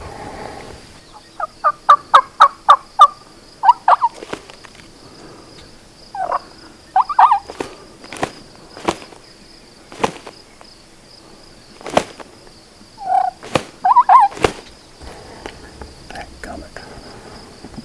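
Merriam's wild turkey hen yelps and gobble-like calls in short bursts, fairly distant outdoors in Montana in spring, with sharp clicks or snaps scattered throughout and a steady insect hum behind.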